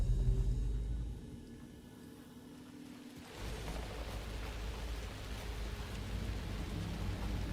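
Heavy rain with low thunder rumbling in the video game Alan Wake 2. The downpour eases briefly, then surges back louder and hisses steadily to the end.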